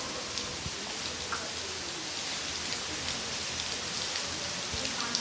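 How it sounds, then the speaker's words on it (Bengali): Steady moderate rain drumming on a roof, an even hiss with scattered drops tapping throughout, no voices. "কেমন করে হচ্ছে বৃষ্টিগুলো, এত জোরে হচ্ছে না, এত আস্তে হচ্ছে না, মিডিয়াম ভাবে হচ্ছে।"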